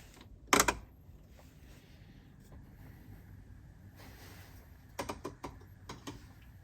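A plastic cup holder adapter in a Fisker Ocean is handled and twisted, giving a sharp knock early on, then a cluster of small clicks and ratcheting snaps near the end, close and fairly quiet.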